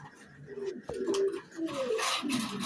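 Pigeons in a loft, including Andalusian birds, giving soft close cooing calls in short rolling phrases, with faint background noise.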